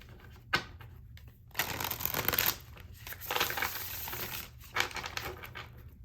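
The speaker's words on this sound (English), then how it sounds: "Finally, we can get some good shuffles in there." Tarot cards being shuffled by hand, close and crisp, in several riffling bursts separated by short pauses.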